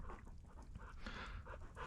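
A female hunting dog pants outdoors in the woods during a squirrel hunt, with quick, soft, breathy rhythmic huffs close to the microphone and no talking.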